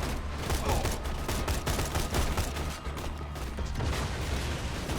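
Rapid, dense gunfire bursts from Borderlands 2 combat, with close, rattling shots repeating almost continuously for five seconds and mechanical clicks mixed in.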